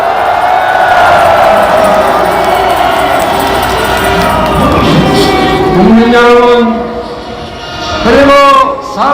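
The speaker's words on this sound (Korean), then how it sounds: "경제 박수 부탁드립니다" A large crowd at an outdoor Korean political party rally shouts and cheers loudly, with sustained voiced whoops and calls rising and falling close by.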